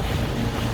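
Wind and sea waves surge around a small island in the open ocean near Dar es Salaam, a steady loud rush with heavy wind buffeting the microphone and no pauses.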